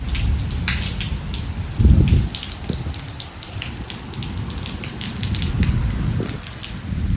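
Steady rain hisses throughout with a dense, broadband wash, a few heavier gusts and low thumps rising briefly, no voices.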